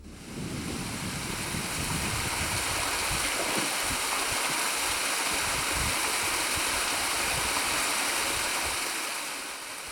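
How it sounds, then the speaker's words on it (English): Steady, loud rush of a stream falling into the depths of Alum Pot cave, a continuous broadband roar with no break and no voices. "see the stream fall into Alum's depths"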